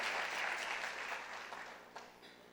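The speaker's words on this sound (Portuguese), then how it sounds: "Se for para aplaudir o Senhor, aplauda mais forte e diga aleluia" A church congregation at a worship service claps loudly together, a dense burst of applause that gradually fades over a couple of seconds.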